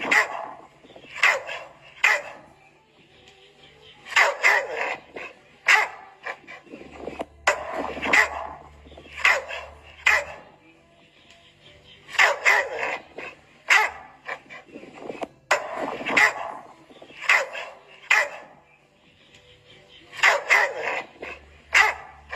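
A female dog barks in repeated short bursts with yips and whimpers, loud and close, in an indoor home setting, with brief pauses between volleys and a low hum underneath.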